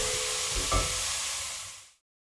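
Vegetables simmering and softening in a sauce in a pan, a soft steady sizzle and bubbling hiss with one brief stir or clink, faint and close, cutting off abruptly after about two seconds.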